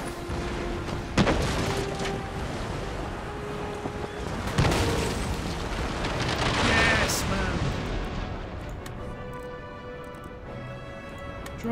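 Naval cannons firing round shot in the video game Empire Total War, repeated booming gunfire and rumbling broadside blasts across the battle, fading toward the end into quieter ambient tones.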